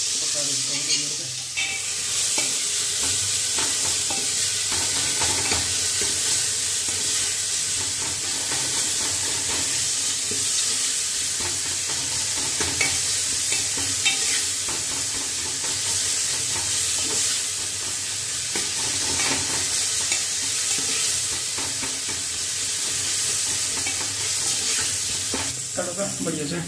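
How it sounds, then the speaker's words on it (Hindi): Onion, tomato, chili and spices fry in a pan over low heat, a steady sizzle and hiss with occasional stirring scrapes running continuously throughout. "टमाटर और मिर्च डाल के मैंने इसमें मसाले भी डाल दिए, और अब इसे पका देता हूँ धीमी आंच पे"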